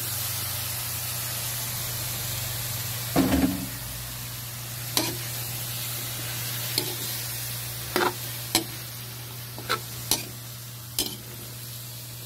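Bottle gourd sautés in a pan under a constant loud hiss of sizzling oil. A spoon knocks and scrapes the pan in scattered short clacks.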